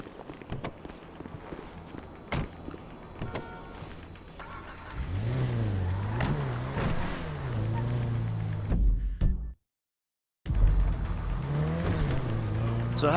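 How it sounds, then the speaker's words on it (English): A car drives in Grand Theft Auto V, its engine rising and falling in repeated revs from about midway, with a short dropout, alongside scattered footstep-like knocks, clicks and background voices. "Shumash, you're driving."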